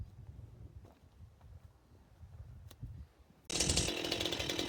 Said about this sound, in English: his head's coming off shortly with a chainsaw